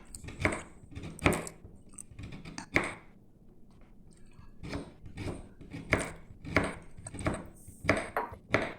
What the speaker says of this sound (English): we need to shave it into smaller pieces so that it melts faster during cooking